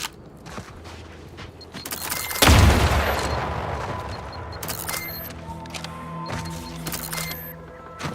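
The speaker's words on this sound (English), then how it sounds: "Triple barrel shotgun." A triple barrel shotgun fires in The Outer Worlds 2, one loud booming blast that rings out and decays over a couple of seconds, with faint mechanical clicks and game ambience before and after.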